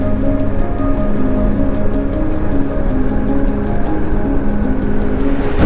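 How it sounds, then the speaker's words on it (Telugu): Steady monsoon rain falls during a road trip through Karnataka's Coorg and Charmadi Ghat, a dense, continuous wash of drops with a low rumble beneath and no voices. "మళ్ళీ అప్పటికప్పుడు మళ్ళీ వాన పడుతూ ఉంది"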